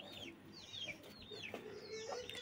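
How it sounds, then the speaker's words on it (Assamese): A hen with two chicks clucks softly while the chicks give thin, repeated peeps, all faint and steady throughout. "এইপিনে চাওঁ কুকুৰাজনী মাত্ৰ দুটি পোৱালি লৈ আছে"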